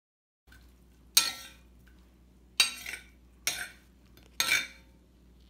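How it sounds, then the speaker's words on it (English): A knife slicing boiled beets and carrots for a beet salad, four crisp chopping strikes against a cutting board at irregular intervals, close and clear over a quiet low hum. "now she's just gonna cut them up into"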